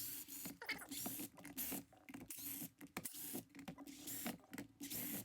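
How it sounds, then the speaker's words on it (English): A Phillips 2 screwdriver undoes the casing screws on a Festool Carvex jigsaw, giving close, irregular scratchy squeaks and clicks with brief pauses between turns. "Then Phillips 2, just undo all of the screws."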